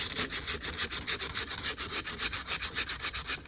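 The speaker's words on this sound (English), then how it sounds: "got the flywheel surface roughed up" Steady rhythmic abrasive rubbing as a flywheel surface is roughed up, likely with sandpaper or a file while removing magnet remnants, rapid back-and-forth strokes at close range, loud and continuous with no talking.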